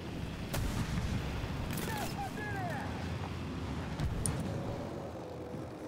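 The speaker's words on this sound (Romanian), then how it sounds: "a tras M48-ul." An M48 tank cannon in a tank battle video game fires amid a dense rumbling soundscape of engines and distant explosions, with sharp blasts standing out and a player talking over it.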